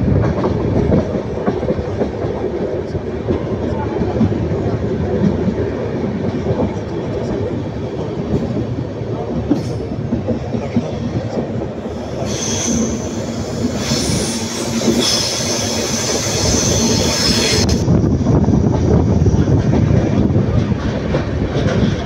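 A passenger train on the Erode to Bangalore route rolls along the rails through hilly country, a loud continuous rumble with clickety-clack of the wheels and a stretch of high wheel squeal partway through.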